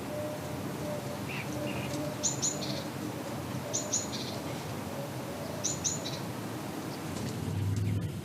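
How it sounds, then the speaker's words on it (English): Starlings gathering food on the ground as food falls from above, giving faint, short chirps in three small bursts a second or two apart over a soft, steady background hiss. "As food rains down from above, the birds on the ground continue their rapid gathering."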